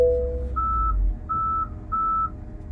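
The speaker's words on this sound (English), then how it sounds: "it's beeping because I'm about to hit that the curb in the back" Three evenly spaced electronic beeps from a 2023 Tesla Model Y park assist warning of a curb behind while reversing, sounding over a low engine hum, each a steady mid-pitched tone lasting under half a second.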